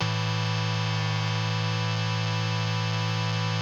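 A synthesizer tone holds steady with the second oscillator switched from sine to square wave, giving a thick, buzzy, harmonically rich drone that sustains evenly and loud for several seconds before cutting off.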